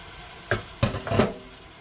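Stew beef and kielbasa are stirred in a pan, giving three short, close scrapes of the utensil against the pan over a faint background hiss.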